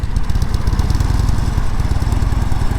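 A Harley motorcycle engine loping along steadily during a slow, balanced riding maneuver, its low, loud, even putter continuing throughout with no talk over it.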